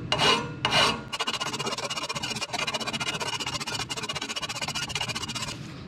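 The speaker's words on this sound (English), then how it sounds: "So I'm just gonna use a regular old file and just start going at the welds." A regular hand file rasps across the welds on steel exhaust headers for a 914 Ferrari build, with a strong rhythmic stroke-by-stroke scraping, loud and close, running steadily without talk.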